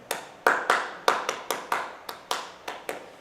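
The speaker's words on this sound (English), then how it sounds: "what I wound up doing was exactly what I just did, which is clapping it" Hands clap out a syncopated rhythm for a music-education piece, about a dozen sharp, close claps in an uneven pattern, heard alone with no talking.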